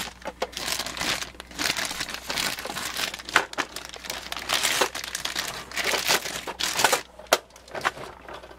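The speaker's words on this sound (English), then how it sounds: "And again, we'll take it out of the plastic." A model box car is pulled from its crinkly plastic packaging, with continuous close crumpling and rustling broken by sharper crackles and brief pauses, loud and near, with no speech.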